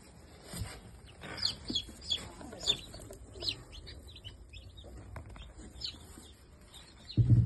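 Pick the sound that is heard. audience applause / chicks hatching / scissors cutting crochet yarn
chicks hatching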